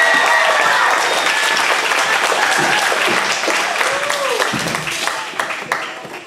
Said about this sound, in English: so big round of applause for Marcy!